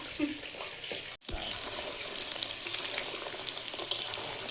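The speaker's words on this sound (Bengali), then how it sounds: "চিকেনটা ভাজা হয়েছে" Chicken pieces frying in oil for chili chicken, a steady bright sizzle close by with a brief cut near the start and a few stirring clicks, no voices.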